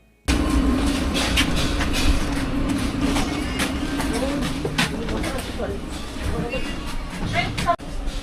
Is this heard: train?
yes